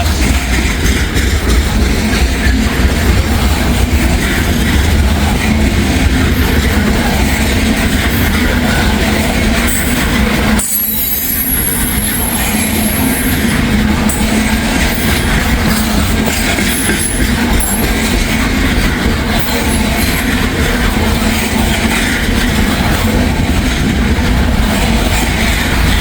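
A long string of loaded coal hoppers grinding past trackside in Wyoming, loud and sustained, with steady wheel clatter, occasional high squeals of wheels on rail and a brief dip in the roar midway.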